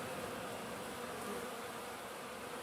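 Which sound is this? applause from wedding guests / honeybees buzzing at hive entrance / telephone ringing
honeybees buzzing at hive entrance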